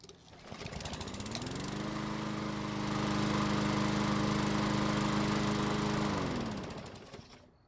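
A warmed-up Craftsman lawn mower engine fires up again within a second, then runs at a loud, steady drone, rising slightly in pitch midway before cutting off near the end.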